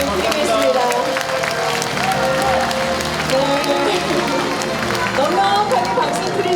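An audience claps warmly for a county mayor at a public Q&A event in Uljin, a thick, sustained round of applause with crowd murmur and some cheering mixed in, steady throughout at close range.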